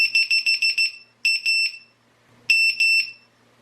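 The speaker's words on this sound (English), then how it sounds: "when it goes into full alarm mode, the audible tones kick off every 6 to 12 seconds, and they become extremely loud" A VIFLY Beacon lost-drone finder buzzer in full alarm mode sounds loud, piercing electronic beeps: a rapid run of six pulses, then pairs of longer tones separated by brief silences.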